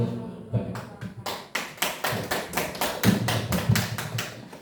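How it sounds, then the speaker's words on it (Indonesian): Applause for teachers at an elementary school discussion event: a run of sharp, evenly spaced hand claps, fairly close and moderately loud, with the rhythm growing denser toward the end and no talking over it. "Tepuk tangan sekali lagi yang luar biasa buat Bapak Dedi"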